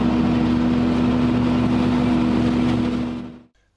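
A tractor engine runs loud and close with a steady droning hum, then cuts out abruptly near the end.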